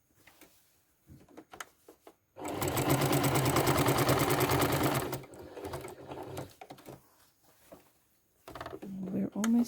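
A sewing machine quilting fabric runs in one steady, rapid burst for a few seconds, close and loud, with quieter handling noises before and after.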